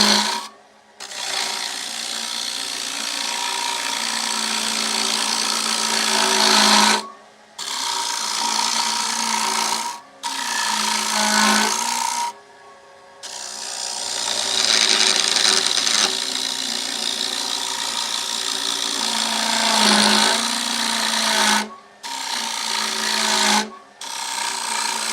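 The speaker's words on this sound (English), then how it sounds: "Now I'm using my scraper. I'm slowly taking out material." A hand scraper shaves material off a wood surface in long, steady strokes, a dry rasping scrape broken by short pauses between passes.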